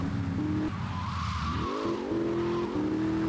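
A car in GTA Vice City drives with a steady engine drone, then a tire squeal rises through the middle as it skids, and the engine tone shifts and climbs again afterward.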